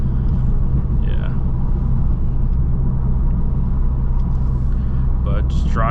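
Steady low engine rumble from an Audi S3 fitted with upper and lower inserts, cruising along at a constant pace, heard from inside the car with a few brief higher chirps over the drone.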